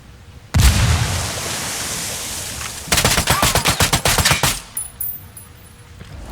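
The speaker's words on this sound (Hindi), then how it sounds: "तो अब हम ये कोकिन्स को उड़ा के देखते हैं" Gunfire in Ghost Recon Wildlands aimed at a stash of cocaine: a long loud roar of noise, then a rapid burst of about fifteen close, punchy shots that stops abruptly and leaves quiet game ambience.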